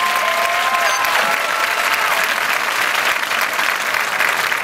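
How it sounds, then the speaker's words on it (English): A crowd at the Van Vleck High School class of 2016 graduation ceremony applauds the graduates, loud, continuous clapping with faint voices mixed into the crowd noise. "Give them a big round of applause."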